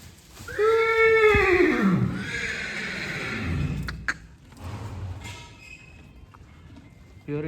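A horse neighs loudly and close, a long descending whinny in the first two seconds, followed by snorting, a few hoof knocks and quieter stable noise.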